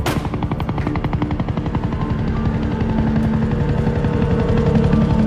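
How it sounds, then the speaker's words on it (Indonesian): A helicopter arrives in a war film, its rotor thumping in a fast, even rhythm, loud and close, growing slightly stronger as it nears, with no voices over it. "terlihat sebuah helikopter yang akan membawanya dan Mike telah tiba"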